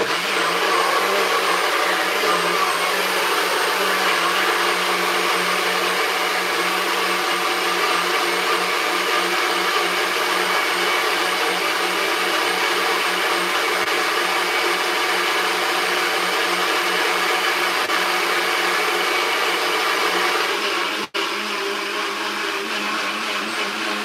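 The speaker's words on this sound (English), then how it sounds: "I just blend it, so I'm gonna blend it a little bit more" A kitchen blender whirs steadily as it blends juice, a loud continuous motor drone with no break for about twenty seconds and no talk over it.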